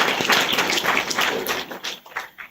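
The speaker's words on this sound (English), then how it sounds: "A warm round of applause to Professor Tinyiko Maluleke" Warm applause at a book launch honouring Professor Tinyiko Maluleke: a dense, steady patter of many hands clapping together, fading slightly toward the end, with no speech.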